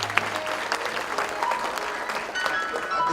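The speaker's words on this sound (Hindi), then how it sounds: "तालियां बजाएं हमारे मुल्क के लिए।" Steady applause from a reunion audience fills the whole stretch, a dense patter of many hands clapping at close range with no talking over it.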